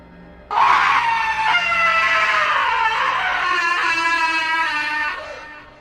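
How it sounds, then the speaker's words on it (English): A single long, piercing scream rising suddenly from nearby bushes by a river, loud and wavering for about five seconds before fading, with no other sound around it. "a third scream came just as suddenly, but this time, it was on our side of the river"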